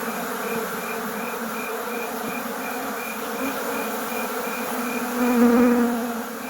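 Honeybees buzzing steadily at an opened hive during a frame inspection, a dense continuous drone with a few louder passes near the end.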